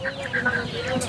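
Young farm chickens cluck in short, scattered calls at a chicken market, fairly quiet amid a busy background murmur.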